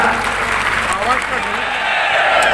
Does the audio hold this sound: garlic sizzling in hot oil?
no